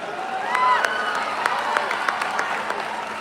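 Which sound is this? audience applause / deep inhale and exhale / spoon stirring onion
audience applause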